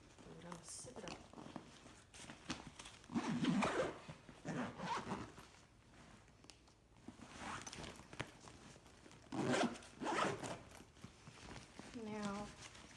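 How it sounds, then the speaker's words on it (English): A backpack zipper pulled closed in a few short rasping strokes near 3.5, 5 and 9.5–10 seconds, with a person talking quietly through most of the moment. "I'm gonna zip it up."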